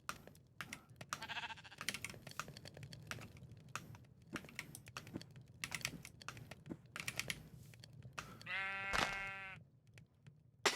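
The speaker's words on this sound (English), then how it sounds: "Sheep, if you keep making noise," A single Minecraft sheep bleats once, loud and clear, in a GregTech CEu Modern steam-power base, standing out over steady nearby keyboard typing and mouse clicks.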